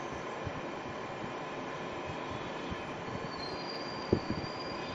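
A BLDC motor driven by a DSPic development board spins at high speed, around 1700 to 1800 RPM, giving a steady whirring hum throughout with a few faint knocks near the end.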